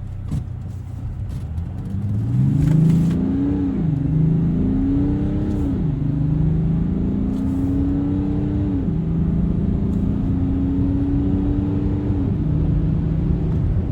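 A 2015 BMW 740Ld diesel sedan accelerating at full throttle from inside the cabin, its engine drone rising smoothly through several gears with brief dips at each shift, loud and continuous.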